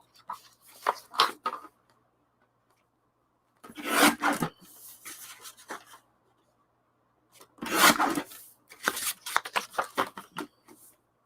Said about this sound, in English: I can probably do it quicker with my cutter